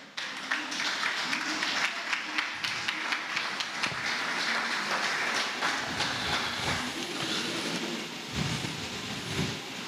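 A church congregation claps continuously, a dense, steady patter of hands with some voices mixed in.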